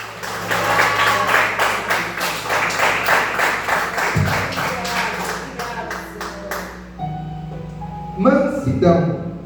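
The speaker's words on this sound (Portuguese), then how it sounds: "Uma salva de palmas para Jesus." A church congregation claps in a steady, even rhythm during a Sunday worship service, with voices and music running underneath. The clapping fades out midway, then a few loud claps return near the end.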